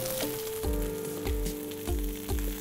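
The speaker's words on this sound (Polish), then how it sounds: "Dobrze wysmażone kotlety zdejmujemy z patelni" Soy cutlets fry in a pan with a constant crackling sizzle, broken by regular soft low thuds about every half second, with no voices.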